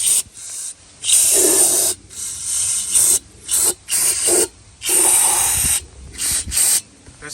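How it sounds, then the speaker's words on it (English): Cleaner sprays into a seized engine in a series of short, sharp hissing bursts with brief pauses between them, close and loud. "Let's get some spray and clean this out and see."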